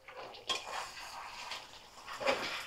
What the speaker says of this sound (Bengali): দেখো ঢাকাটা আমি খুলে নিয়েছি